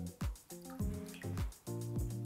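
Water trickles in short splashing pours and drips into a bowl while a vegan sauce is mixed, a close, quiet series of five or six liquid bursts with brief gaps and no talking.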